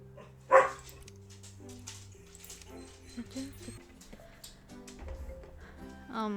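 An upset dog gives a single sharp bark near the start, then whimpers and yips faintly under continuous background music and other indoor sounds.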